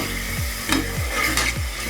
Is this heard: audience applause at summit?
no